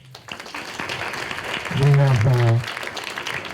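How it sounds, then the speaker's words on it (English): Audience applause at an evening humanities lecture, a soft spread of clapping in a hall that continues under a voice speaking into the microphone. "And let's have a great round of applause for the council."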